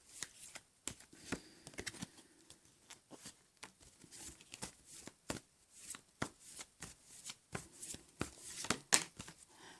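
Wisdom of the Hidden Realms oracle cards being shuffled by hand, a run of quick crisp riffles and soft slaps in uneven bursts, close and fairly quiet, without talking.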